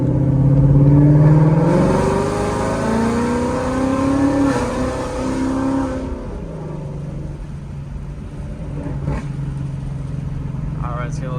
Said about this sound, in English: I'm going to downshift so you guys can hear that